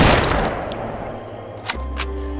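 A single rifle shot booms at a shooting range, loud and close at the start, then decays into a lingering reverberant tail with a couple of faint, sharp clicks afterward.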